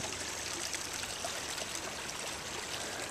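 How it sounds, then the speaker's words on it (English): Continuous gentle rush of water flowing and trickling into a drain under a driveway, steady and moderately close with no voices. "Not really a creek, but certainly water flow."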